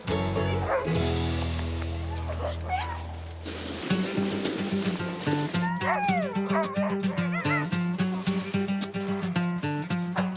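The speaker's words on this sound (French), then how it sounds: "La race de chiens nordiques que les gens connaissent tous, c'est le husky." Siberian husky sled dogs barking repeatedly on a winter mountain at Mont-Sainte-Anne, a rhythmic chorus of yips and barks following a sustained low droning tone, with possible voices mixed in.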